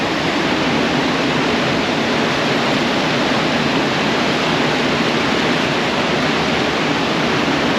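A steady, loud, broadband rush of water from a waterfall beside the Karhunkierros Trail in Oulanka National Park, heard up close without pause.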